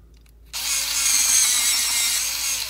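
An electric pencil sharpener switches on abruptly and grinds a colored pencil with a continuous high, buzzing whir that holds steady for about two seconds, loud and close with no voices.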